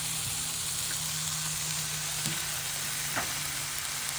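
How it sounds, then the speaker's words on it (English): Steady, close crackling sizzle of bacon frying on an Arteflame grill, with a few soft clinks and scrapes of a utensil on the cooking surface. "You can already hear it starting to sizzle over here."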